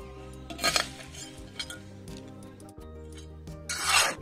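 Hands rubbing and scraping as bone dust and mustard cake fertilizer for roses are mixed in a container: gritty, rasping strokes, close and steady, with louder swells at the start and end and a faint background hum.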